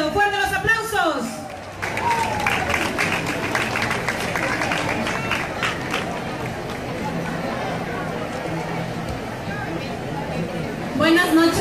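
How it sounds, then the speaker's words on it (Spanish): Crowd at a Miss Ecuador candidate presentation in Naranjal breaking into sustained applause and cheering chatter, loud and continuous across the hall, with a voice speaking at the start and end. "¡Fuerte los aplausos!"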